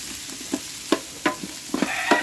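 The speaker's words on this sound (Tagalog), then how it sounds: "ginigisa na yung bawang, sibuyas, luya para sa arroz caldo to," Garlic, onion and ginger sizzle in a pan for arroz caldo, a steady frying hiss broken by several sharp scraping stirs of the spatula.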